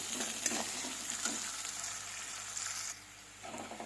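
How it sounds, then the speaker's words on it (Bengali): Sliced onion frying in hot oil, a steady close sizzle with a few stirring scrapes, dropping quieter near the end before picking back up. "পেঁয়াজটা একটু ভেজে নেব বেশি ভাজবো না"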